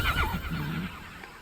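A summoned horse mount in the game Immortals Fenyx Rising lets out a loud, close whinny with a rising and falling neigh. It fills most of the short clip, with faint hoofbeat-like sounds beneath.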